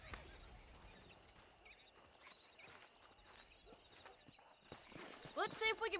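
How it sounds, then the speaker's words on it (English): A horse in the western video game Red Dead Redemption gives faint clip-clop hoofbeats over a quiet background, then a sharp, nearby neigh near the end. "That ranch hand said there's a pack of wild horses nearby."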